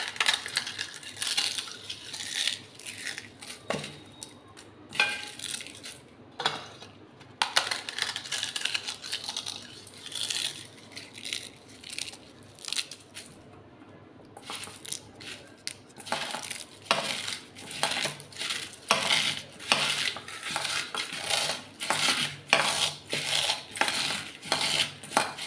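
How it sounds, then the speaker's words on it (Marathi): Crisp papad is crushed into fine crumbs: dense bursts of dry crackling and crunching come close up in quick runs with short pauses, and no voices. "आपण हे बारीक बारीक करून घेऊया पापडाचा चुरा."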